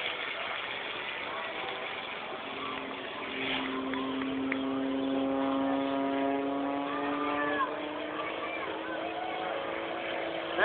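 An aerobatic propeller airplane holds a Cobra hover over Pensacola Beach at an airshow, its engine droning steadily at a distance with harmonic tones that slowly rise and bend in pitch as the power changes.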